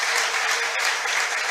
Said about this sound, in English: He also gets a fine round of applause